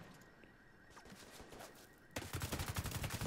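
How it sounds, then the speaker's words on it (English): Rapid automatic gunfire in the online shooter The Division 2 erupts abruptly after a quieter stretch of distant shots, a loud rattling burst of evenly spaced rounds continuing to the end. "Oh, I hear a lot of gunfire coming over here."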